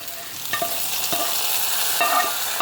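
Dried red chillies and curry leaves hit hot oil with mustard seeds while a Kerala mango curry cooks, giving a steady close sizzle with a few sharper crackles and pops throughout.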